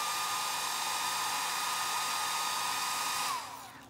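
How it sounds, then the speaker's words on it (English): A blow dryer blasts steadily to dry stencil paint on a DIY tissue box cover, a loud, close, unbroken whoosh with no talk, cutting off and winding down just before the end. "I'm going to hit this with a blow dryer real quick"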